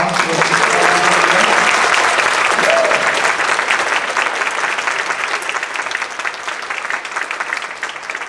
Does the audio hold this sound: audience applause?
yes